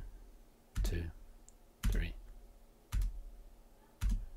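Keys on a computer keyboard tapped to count beats per minute, four separate sharp taps about a second apart, close and fairly loud in a quiet room.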